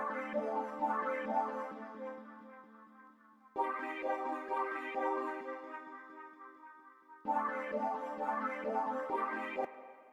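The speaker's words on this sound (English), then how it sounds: "I'm using this preset from the Nick Mira and Perio Anthrax Electra Bank" Soft ambient synth chords from an Electra preset in the Nick Mira and Pierre Anthrax bank, three long sustained chord swells each starting abruptly and decaying slowly, quiet and alone.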